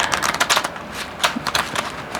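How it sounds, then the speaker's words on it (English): A sticky deck of playing cards being shuffled, giving a close, uneven run of papery riffles and flicks with short pauses between bursts. "This is very sticky, this deck."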